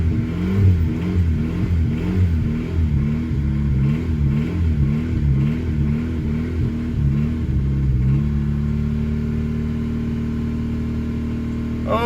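A 2000 Honda Civic with a D16Y7 engine, running without spark plugs fitted, cranks and revs in rhythmic surging pulses, then settles into a steady whirring idle, close and loud.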